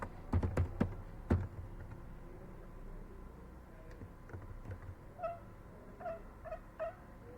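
Keys clatter on a computer keyboard while code is typed, a few sharp close taps at first, then softer scattered keystrokes with quiet pauses between them.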